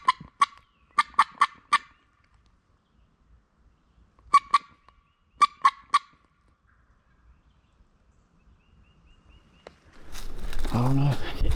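A wild turkey gobbles across a field in Georgia, its calls arriving in short clustered bursts separated by quiet gaps. Voices and rustling come in at the very end.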